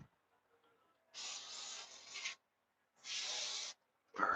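A rag wipes the fuel tank sealing surface of a 2011-2013 Honda CBR250R motorcycle, giving three distinct rubbing strokes, each about a second long, separated by quiet gaps. The strokes are close and fairly loud.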